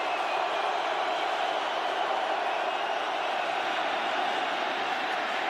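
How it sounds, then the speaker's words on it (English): Steady roar of a home stadium crowd at an NFL playoff game in Seattle, Redskins at Seahawks, rising while the opposing offense lines up near the goal line; a dense, continuous wash of noise at a constant level throughout. "crowd noise for the home team to get the defensive signal"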